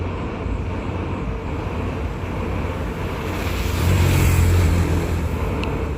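A loaded freight train rumbles across the rail bridge over the Subansiri river, a steady low droning roar that swells louder toward the end, heard from close by with no talking.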